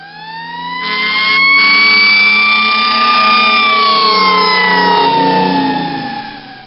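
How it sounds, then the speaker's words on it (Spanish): A fire engine siren wails loudly, rising and swelling as it draws near, with a low truck engine rumble underneath, then fades slightly. "comenzamos a escuchar las sirenas del carro de bomberos que venía acercándose"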